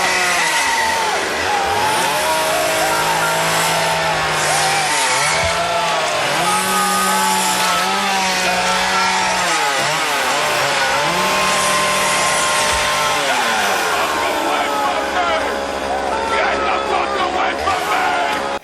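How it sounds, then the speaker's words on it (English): A chainsaw revs in a low-budget movie scene, its whining motor rising and falling in pitch through repeated bursts, loud and continuous beneath overlapping voices and music. "the director dude chainsaws the first guy"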